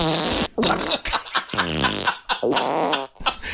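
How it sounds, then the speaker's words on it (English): Farts recorded on an old cassette in the 1990s play back as a series of loud, separate blasts of varied length and pitch, some tonal and buzzing, with short gaps between them. "these are my farts from the 90s"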